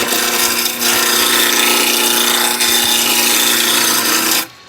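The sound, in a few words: wood lathe turning with a roughing gouge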